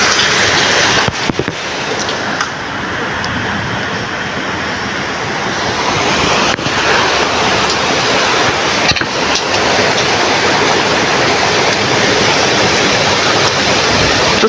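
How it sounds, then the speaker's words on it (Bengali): Heavy evening rain pours down during a thunderstorm, making a loud, dense, continuous roar that swells slightly partway through, with no speech. "প্রচণ্ড পরিমাণের বৃষ্টি নেমে গেছে"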